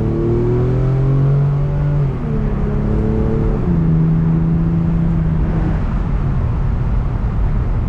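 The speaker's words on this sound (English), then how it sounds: "Cold start. Not even cold, bro. I already started the car earlier." An Infiniti G35 engine idles and hums steadily after a warm start, its low tones shifting in pitch a few times as it runs close and continuous with no talking.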